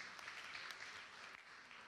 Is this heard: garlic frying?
no